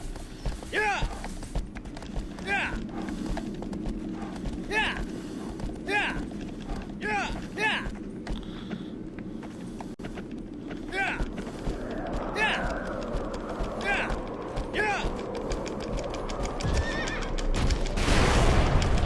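Horse in the Shadow of the Colossus video game neighing repeatedly in sharp whinnies over steady galloping hoofbeats and game music, with someone talking throughout and the action swelling louder near the end.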